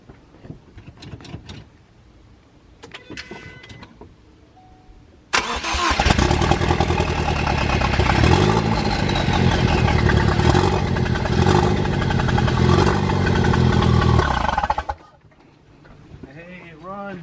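A Ford Focus ST with a swapped engine cranks and fires up, then runs loud and revs steadily for about ten seconds before cutting off, with people talking before and after.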